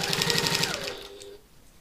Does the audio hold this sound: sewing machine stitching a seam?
yes